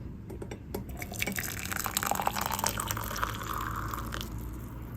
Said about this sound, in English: Now I'm going to drain all of them ginger water here.